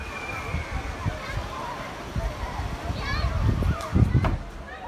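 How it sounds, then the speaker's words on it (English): A water bomb bursts and splashes, with sloshing and spattering water while children's voices and chatter carry on over and around the splash. "water bomb."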